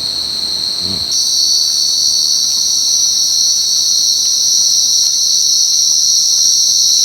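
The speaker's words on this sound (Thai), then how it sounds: "จิ้งหรีดร้องเต็มเลยครับ" A loud chorus of crickets trills without pause, shrill and unbroken, after a brief soft thump near the start.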